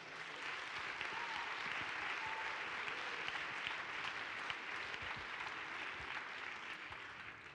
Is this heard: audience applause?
yes